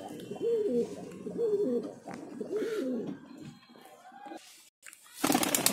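Golden Rampuri pigeons coo in repeated soft, rolling phrases nearby, several calls in a row, followed by a brief louder noise at the end.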